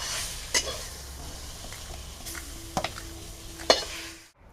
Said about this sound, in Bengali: আমার শুশুনির শাকটা ভাজা হয়ে গেছে